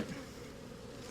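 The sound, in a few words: honey bees buzzing around a bee package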